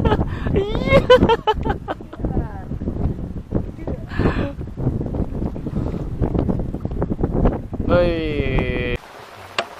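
Strong west wind rumbles and buffets across open sea around a bagan fishing platform during a monsoon storm, a continuous gusty roar under people talking.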